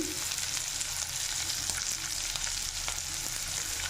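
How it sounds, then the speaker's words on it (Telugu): Onions, chillies, curry leaves and dal fry in a hot pan for a Rayalaseema-style brinjal fry, giving a steady, close sizzle with faint stirring and no talk. "ఇలా వేగుతూ ఉన్నప్పుడు ఇందులోకి కొద్దిగా పప్పు వేసుకోవాలి"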